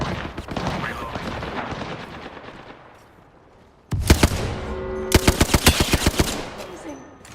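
Gunfire in a battle royale video game: a dense run of sharp shots and rapid automatic bursts, loud and close, starting abruptly after a quieter stretch of in-game ambience and continuing in quick repeated cracks.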